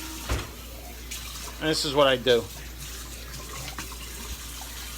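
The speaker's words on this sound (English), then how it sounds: "I add a little bit of water to it. You see the water in the can?" Water from a kitchen sink tap runs into an emptied Tutto Rosso tomato can. The gurgling fill is brief and moderately loud near the middle, and a person speaks over and around it.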